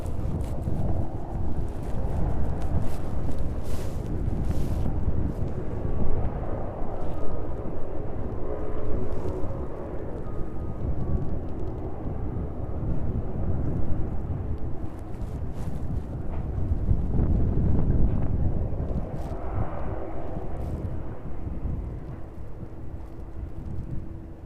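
At East Midlands airport, an aircraft taxis toward runway 27 as a steady, broad jet engine rumble at a distance, swelling and easing slightly over time, mixed with wind noise and no speech.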